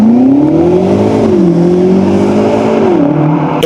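A BMW 750e hybrid with an inline-six accelerates hard, its close, loud engine note climbing steadily in pitch with a brief dip at a gear change before rising again.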